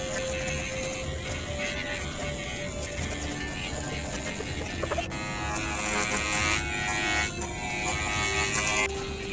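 An electric trimmer flat-trims the pile of a tufted rug, buzzing steadily and close, growing a little louder and harsher partway through as it bites into the tufts.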